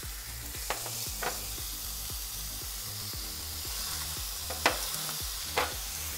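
Onion frying in a pan for a burek filling: a steady broadband sizzle with spatula scrapes and stirring strokes every second or so, a few sharper clacks, no voices.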